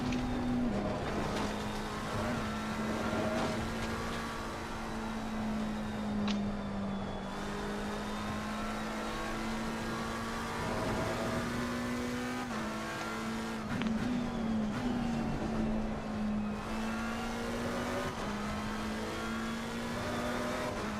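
A race car engine in an endurance race revs hard above 7,000 rpm, holding a steady high whine with slight pitch dips at gear changes, loud and continuous throughout with no talk.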